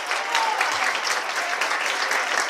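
A church congregation at a praise service applauds in a thick, continuous patter of many hands, steady and fairly close for a couple of seconds with no voices standing out.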